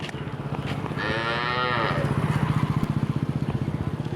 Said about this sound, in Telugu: ఈ గోవుకు పుట్టిన దూడ ఎక్కడో తప్పిపోయింది పాపం వెతుకుతూ ఉంది